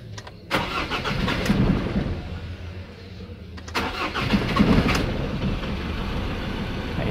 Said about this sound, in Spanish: vamos a encenderla